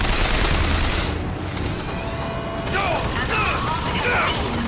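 Gunfire in Bioshock Infinite, a busy mix of dense, rattling shots and mechanical clatter running through most of the stretch, loud and close, with a short lull partway and speech-like noise mixed in.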